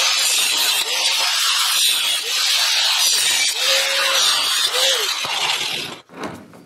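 A power tool cutting the tops off IBC tote dollies, a loud, gritty high-pitched grinding whine that rises and dips in several passes before stopping near the end.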